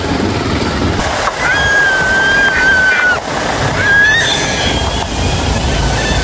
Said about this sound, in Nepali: वाउ, येल्लो स्टोन झरना हामी आइपुगिसकेका छौँ